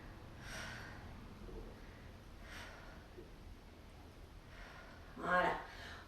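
Breath puffs during a muscle-strengthening workout, with faint soft exhalations around 0.5, 2.5 and 4.5 seconds and a louder, sharper blow of air near 5.3 seconds, all quiet against low room noise.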